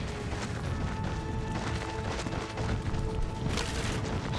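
Barricades are smashed apart in Hogwarts Legacy, with repeated crashing, splintering impacts and booms over a dense, loud game soundscape.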